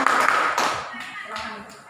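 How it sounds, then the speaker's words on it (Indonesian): A class of students gives a short burst of applause for a classmate's answer, scattered clapping mixed with overlapping chatter and voices in a classroom. "Tepuk tangan semuanya."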